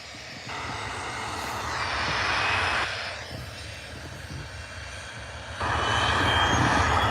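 A steady aircraft engine roars at Liverpool John Lennon Airport, swelling louder, dipping, then surging again near the end, with no voices.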